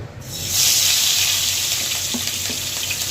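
Fish marinated in turmeric, chili and salt hits hot oil in a pan, bursting into a loud, steady sizzle that holds close and even with a couple of faint knocks.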